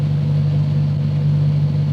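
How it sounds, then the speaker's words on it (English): A car engine on a live tuning session revs steadily, a loud continuous mid-pitched drone with a strong low hum, close and alone with no talk. "Give it some revs, make sure she's happy."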